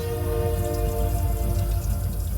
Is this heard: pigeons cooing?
no